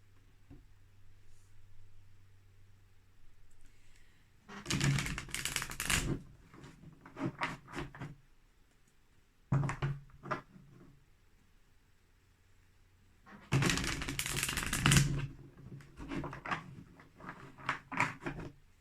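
Tarot cards being shuffled and pulled for an Aquarius pick-a-pile reading. Close bursts of riffling and rustling card noise come in three separate bouts with quieter gaps between them, and no talk.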